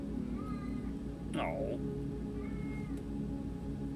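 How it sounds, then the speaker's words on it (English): A house cat gives a single short, complaining meow near the middle, heard close up over a steady background hum, with a brief spoken exclamation nearby. "The kitty was just being a little bit of a complainer."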